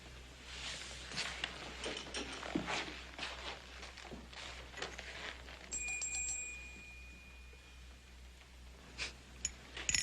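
A small hand bell tinkles in several quick, light rings in an interior scene, used to summon a household helper, over faint footsteps and room noise, with a brief steady tone partway through.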